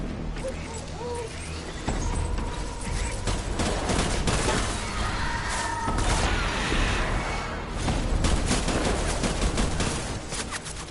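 Gunfire in Death Stranding Director's Cut on PS5: a dense, continuous barrage of overlapping shots and impacts rolls on for the whole stretch, loud and cluttered with game effects.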